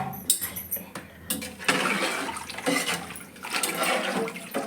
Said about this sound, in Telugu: ఇప్పుడు వాటర్ అనేది పోయాలి